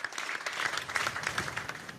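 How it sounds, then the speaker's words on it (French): Staff applauding General Pierre de Villiers as he leaves his offices: brisk, moderately close clapping from a small group, continuous and fairly quiet, with no talk over it. "Pierre de Villiers a quitté ses bureaux sous les applaudissements du personnel"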